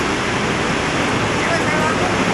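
Waterfalls, cascades seen on a 1990 trip through the USA, make a steady, dense broadband rush that stays loud and constant throughout, close by, with no voices over it.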